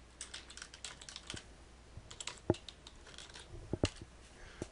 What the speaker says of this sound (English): So I can type that in here.